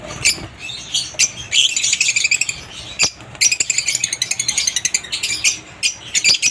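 Opaline pale fallow parrots, red-eyed mature breeding birds, give rapid shrill chirps and chattering calls in quick irregular bursts, close and fairly loud, with a short pause midway.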